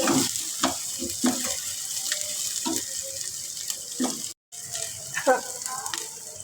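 Green chillies fry in a pan with onions, giving a light sizzle broken by clinks and stirring scrapes, with a brief dropout partway through.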